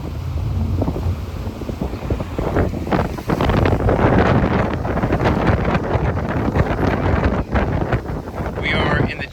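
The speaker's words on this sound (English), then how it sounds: "It's very windy out here today." Strong wind buffets the microphone aboard a boat on the Chesapeake Bay, a heavy roaring rumble with gusty surges, while a voice speaks faintly underneath.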